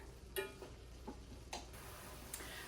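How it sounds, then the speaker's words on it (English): Ground beef browning in a pan gives off a faint, steady sizzle, with a few soft scraping stirs and light clicks of a utensil against the pan. "So we're gonna brown this turkey or this ground beef"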